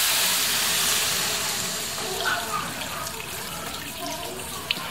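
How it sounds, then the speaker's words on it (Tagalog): Water poured into a pan while cooking batchoy with onions and pork belly, a continuous close hiss and splash that fades slightly into a sizzling simmer. "Tapos sabay na po natin tong tubig."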